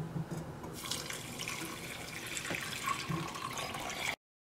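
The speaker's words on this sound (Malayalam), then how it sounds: "ഇനി ഇതിലേക്ക് തേങ്ങാപ്പാൽ ചേർക്കുക." Coconut milk pours into a bowl in a steady, close liquid stream that runs for about four seconds before stopping abruptly, with no talk.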